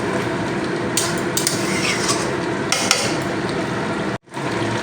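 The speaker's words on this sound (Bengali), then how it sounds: "মিষ্টিটা দেওয়ার পরে নেড়ে দেব দিলে সব জায়গায় মিশে যাবে মিষ্টিগুলো" Pumpkin curry is stirred in a pan after sugar is added: a continuous close frying sizzle with a few soft scrapes of the spoon and a brief drop-out near the end.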